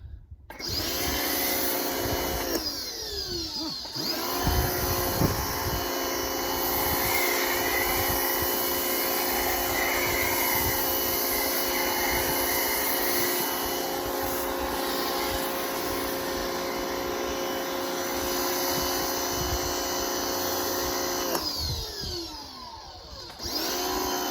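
Harbor Freight Portland pressure washer with a foam cannon attached through a Ryobi adapter, running steadily for about twenty seconds as a loud, continuous motor drone with hissing spray, starting up and shutting off at the ends.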